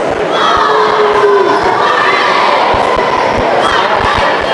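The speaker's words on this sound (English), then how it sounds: "We'll let the crowd's reactions go through the gymnasium here." A basketball crowd in a gymnasium roars loudly and continuously during a boys' holiday tournament championship game, shouting and cheering echoing through the hall with a few sharp thuds underneath.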